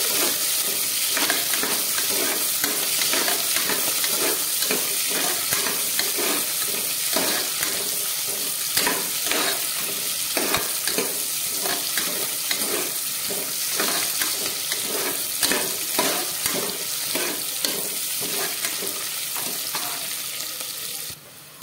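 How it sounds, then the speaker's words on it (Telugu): Onions, green chillies, cumin and mustard seeds fry in a hot pan for tomato rice, giving a steady, loud sizzle with repeated stirring scrapes and clinks throughout, and no voices. "ఆనియన్స్, పచ్చిమిర్చి, జీలకర్ర, ఆవాలు అయితే యాడ్ చేసుకొని గోల్డెన్ బ్రౌన్ కలర్ వచ్చే వరకు బాగా ఫ్రై చేసుకోవాలి"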